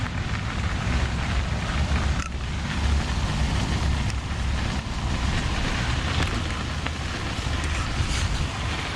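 A van rolls over sandy gravel, giving a steady, loud, close low rumble with a constant gritty crunch and wind buffeting. No voices.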